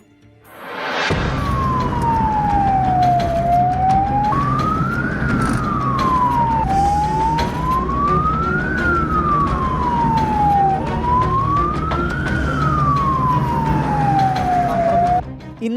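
An ambulance siren wails loud and close, rising and falling in long, even sweeps for about fifteen seconds over steady road traffic rumble on a Kozhikode route, with no voices.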